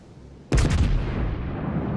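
A battleship's heavy guns fire armour-piercing shells in World of Warships: one sudden, loud, booming salvo that cracks sharply, then rolls into a long rumbling tail.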